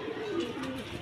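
Young home-bred flying pigeons coo softly at close range in a short, faint burst of throaty warbling.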